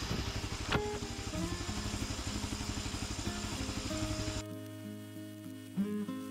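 A DIY sawmill power head with a carbide blade cutting wood gives a steady, buzzing engine drone with a fast pulsing rhythm, a sharp knock near the start, then drops to a quieter idle hum.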